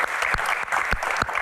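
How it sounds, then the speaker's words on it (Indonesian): Audience applause at a year-end Q&A event, a steady dense wash of clapping with a few sharper nearby claps standing out rhythmically, loud and continuous throughout. "Tepuk tangan dulu dong."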